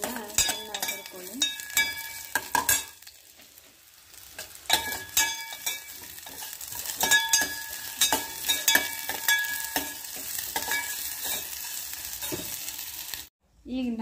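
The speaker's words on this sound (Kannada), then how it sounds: "ಚೆನ್ನಾಗಿ ಹುರ್ಕೊಳ್ಳಿ." Onions frying in hot oil for kattin sambar, a continuous sizzle broken by repeated scraping strokes of a spoon stirring the pan, close and fairly loud, with a brief pause near the end.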